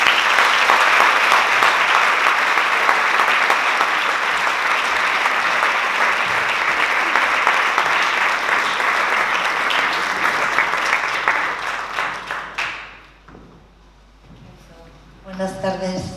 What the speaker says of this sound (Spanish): os pido un fuerte aplauso para ellas.